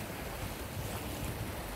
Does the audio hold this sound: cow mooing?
no